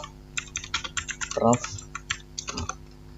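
Quick bursts of keystrokes on a computer keyboard while a Linux package-install command is entered on a Debian system, sharp clicks in irregular clusters with a brief louder thump midway, close and alone.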